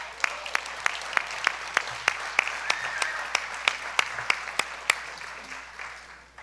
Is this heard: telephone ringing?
no